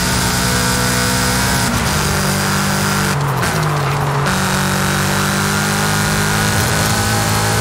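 Loud, continuous engine roar from a Subaru S209 in Forza Horizon 5, its standard engine making 731 horsepower, revving up through several gear changes with a steady, close, buzzing tone and a short dip between shifts.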